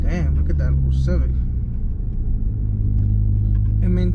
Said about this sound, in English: look at that little Civic